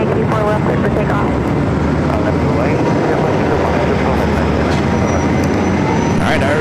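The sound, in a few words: Airbus A380 taking off at LAX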